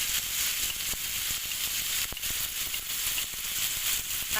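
Four slit green chillies sizzle in hot oil, a loud, dense, continuous hiss with scattered sharp crackles and pops, close and steady throughout with no talking.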